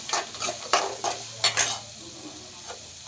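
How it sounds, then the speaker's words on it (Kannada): Onion, garlic and green chillies frying in a pan over a medium flame for a spicy traditional Indian chutney, with steady close sizzling broken by several bursts of stirring scrapes; no one talks. "ಈರುಳ್ಳಿ, ನೆಕ್ಸ್ಟು ಬೆಳ್ಳುಳ್ಳಿ, ಮೆಣಸಿನ್ಕಾಯಿ, ಇದಿಷ್ಟು ಹಾಕಿ ಫಸ್ಟು ಫ್ರೈ ಮಾಡ್ಕೊಳ್ಬೇಕು."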